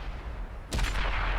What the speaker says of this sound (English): Now someone further back there on the hill is shooting at me.